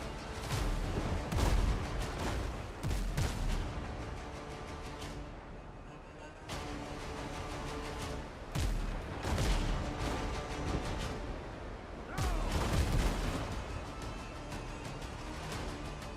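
Repeated heavy booms of ship guns firing in a bunny pirate naval battle game come in loud clusters every few seconds, with rumbling between the volleys and no voices.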